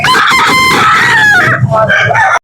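A loud, close rooster crow rings out with a rising then falling call at an outdoor chicken sale in Carcar, Cebu, cutting off abruptly near the end.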